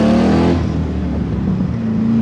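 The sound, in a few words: Chevrolet C2 Corvette restomod engine accelerating from light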